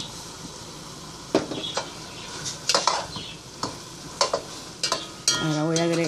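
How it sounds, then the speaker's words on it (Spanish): Spoonfuls of sofrito go into a pot of cooked meat for arroz con pollo, with a soft sizzle, several sharp scrapes and clinks of a spoon against the pot, then a brief tonal squeak at the end. "vamos a agregarle el sofrito, que son tres cucharitas que quedaban ahí de sofrito"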